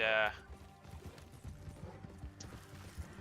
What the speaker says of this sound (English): I'm just gonna take my horse